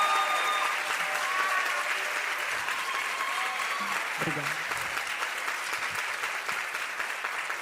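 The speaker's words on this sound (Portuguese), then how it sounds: "Uma salva de palmas que nem precisam ser chamadas" A conference audience applauds a feminist researcher being introduced, sustained dense clapping through the whole stretch, with a woman's brief thanks spoken over it.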